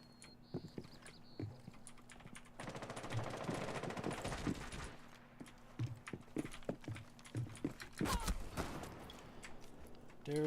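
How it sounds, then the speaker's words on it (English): Rapid automatic gunfire from an online shooter game, with bursts of fire and scattered single shots, loud and close, alongside footstep-like clatter and game effects. "he's already shooting me as he's turning the corner"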